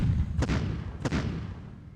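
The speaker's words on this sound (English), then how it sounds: "we use the other two to bombard this position" Two heavy artillery blasts strike a few tenths of a second apart, each a broad thudding burst with a short rumbling tail, during a bombardment in the wartime strategy game Decisive Campaigns: Ardennes Offensive.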